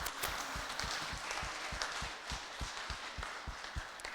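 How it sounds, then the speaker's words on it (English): Scattered claps from an audience honoring veterans and active armed forces members at a flag raising ceremony, thin and fairly distant, with individual hand strikes picked out against soft outdoor background noise. "can we please give all of our veterans and our current men and women in the armed forces a round of applause?"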